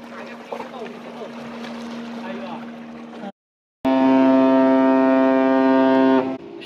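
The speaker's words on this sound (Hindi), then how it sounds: "शिप ने हॉर्न दे दिया" A ship's horn at sea at night, sounding as a loud, steady tonal blast of about two and a half seconds after a short gap, preceded by a lower droning horn tone under faint talk.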